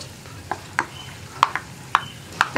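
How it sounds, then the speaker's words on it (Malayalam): Peanuts popping while frying in oil in a pan over a medium flame, sharp irregular pops and crackles over a soft sizzle, close and alone with no talk. "കപ്പലണ്ടിയൊക്കെ പൊട്ടുന്ന സൗണ്ടാണ് കേൾക്കുന്നത്"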